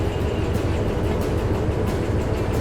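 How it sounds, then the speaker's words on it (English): Train rolling along in the Derail Valley railroad simulator, a steady loud rumble with rhythmic wheel clatter running continuously with no voices. "Isn't this hilarious? I'm literally on a train."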